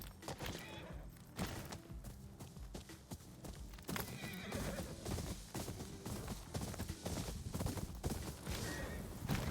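Horses whinny repeatedly over a steady clatter of hooves, with busy background noise throughout and no talking.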